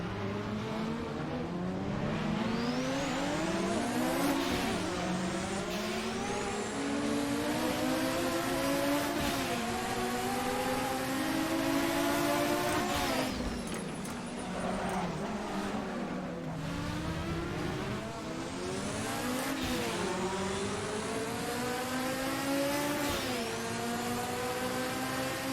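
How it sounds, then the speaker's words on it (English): Race car engines rev and climb through gears in the Assetto Corsa sim racing game, a loud continuous howl with rising pitch sweeps, gear-change drops and brief lifts for braking, with no voices. "God, the sounds of these cars are so amazing"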